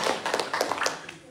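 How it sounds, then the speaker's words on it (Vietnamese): An audience claps briefly after a talk at a meditation monastery, a short burst of scattered hand claps that quickly thins out. "cho một tràng pháo tay hay quá"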